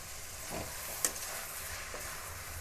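Minced meat keema fries with onions in a pan, a faint steady sizzle with occasional sharper pops and stirring scrapes, no talking.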